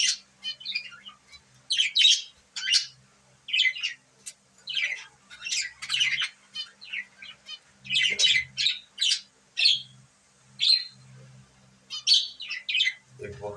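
Pet budgerigars chirp and squawk in sharp, rapid bursts close by, irregular clusters of bright calls with short pauses between them over a low background hum.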